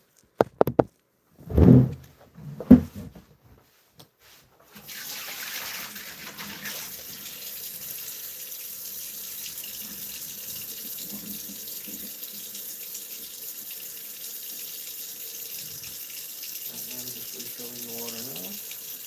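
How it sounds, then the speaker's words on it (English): A few sharp knocks and thuds, then a kitchen or bathroom tap turned on and running steadily as water is refilled, a constant close hiss filling the rest of the time. "I'm going to refill my water, so hang tight for just a moment"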